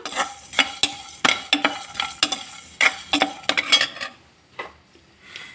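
Eggplant frying with tamarind in a pan, a close sizzle under repeated clinking spatula strokes against metal that thin out near the end, no voices.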